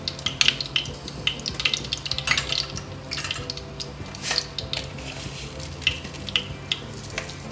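Something sautés in oil in a pan for an onion chapathi curry, with a close, crackling sizzle and repeated scraping stir strokes throughout.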